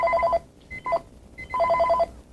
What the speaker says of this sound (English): you can buzz and use it as an intercom